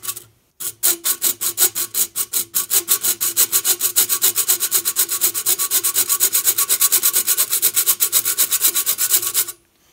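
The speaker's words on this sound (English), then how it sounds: "We're gonna come by with the round file now." A round file rasps back and forth against a workpiece while cutting a starter notch at a 90 degree angle, giving a steady, fast run of close, loud scraping strokes that stops abruptly at the end.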